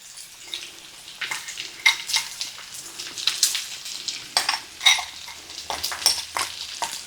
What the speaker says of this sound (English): I'm going to go ahead and add all the peppers and onions to it and the seasonings, and I'm going to let this go ahead and cook